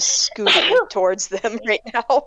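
A sneeze bursts out at the start of a penguin reunion, followed right away by close conversational speech.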